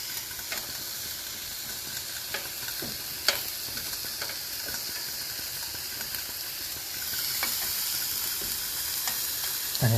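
Squash and zucchini slices sizzle on a grill beside chicken in olive oil, a continuous close frying hiss with scattered pops and crackles that grows slightly louder toward the end, with steam and stirring.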